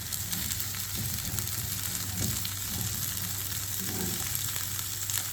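Cauliflower and broccoli sauté in hot vegetable oil in a pan, a steady close sizzle throughout with occasional faint stirring clicks and no voices.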